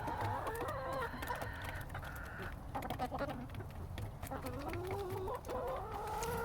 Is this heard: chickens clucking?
yes